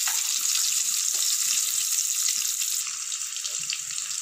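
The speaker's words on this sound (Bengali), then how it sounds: "এবারে ডিমগুলোকে ভেজে নেব।" Eggs fry in hot oil in a pan with turmeric powder, giving a steady, close, bright sizzling hiss that continues throughout, with faint clinks beneath.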